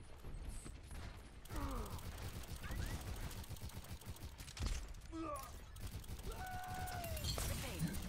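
Gunshots in Overwatch on PC, fired from a distance during a match, with a few sharp cracks and mechanical clatter amid busy game effects, no one speaking.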